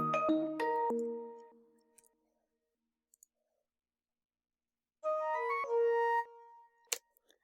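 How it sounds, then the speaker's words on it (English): A flute sample in a dancehall arrangement plays two short melodic phrases, bright and clear, separated by a quiet gap with faint clicks, marking a transition between song sections. "I have this sound right here, which is a flute that signals a transition into another section"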